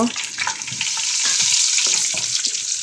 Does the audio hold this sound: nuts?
yes